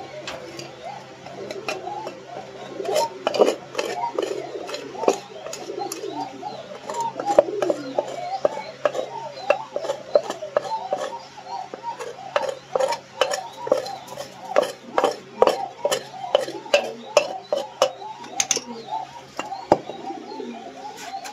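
A dirty clay nesting pot for pigeons being cleaned, with sharp repeated clicks, scrapes and knocks of earthenware under steady pigeon cooing, and occasional speech nearby.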